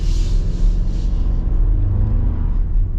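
A 4-cylinder 2024 Toyota Tacoma pulls under acceleration, its engine a steady, loud low rumble heard from inside the cab with no talking.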